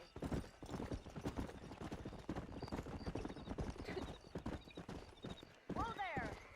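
Horse hooves galloping in the video game Red Dead Redemption, a steady rapid clip-clop rhythm running throughout under continuous talking, with a brief whinny near the end.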